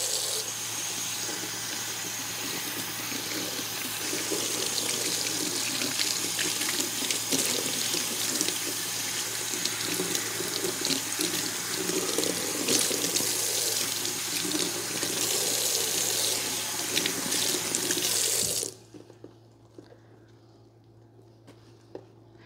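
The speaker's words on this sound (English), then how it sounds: "Now rinse with hot water." Water gushes steadily from a tap into a sink for about eighteen seconds, rinsing a microgreens growing tray, loud and close, then shuts off, leaving quiet room tone.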